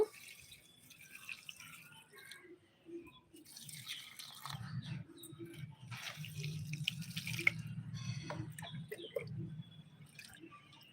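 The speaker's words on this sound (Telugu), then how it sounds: "సో మనం ఈ వాటర్ని అన్ని రకాల మొక్కలకి ఇచ్చేసుకుందాము" Fertilizer water is poured onto garden plants such as mint, a soft intermittent trickle and splash over quiet outdoor background, fairly faint with no speech.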